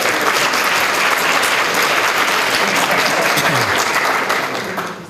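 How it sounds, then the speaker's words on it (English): Close, loud applause fills a room as an audience at a sustainability research institute launch welcomes Tim Daly. The clapping is dense and continuous, then tapers off in the last second. "so a round of applause for Tim"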